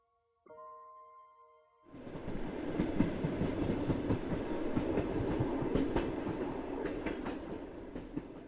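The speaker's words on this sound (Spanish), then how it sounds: "el ruido de uno que otro tranvía que bajaba por la calle Soriano" A tram rolls down Soriano street, a steady loud rumble of wheels with rhythmic clickety-clack that swells in after a faint tonal hum at the start and continues alone.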